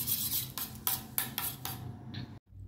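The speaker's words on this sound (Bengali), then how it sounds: "সামান্য একটু জল দিয়ে দইটাকে ফেটিয়ে নিলাম" Rhythmic metallic scraping and clinking of a utensil whisking yogurt with a little water in a bowl, a quick series of strokes close by, ending with a brief pause.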